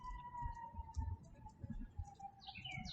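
Sirens wail steadily somewhere in the distance, a long sustained tone that holds through the moment while birds chirp brightly closer by.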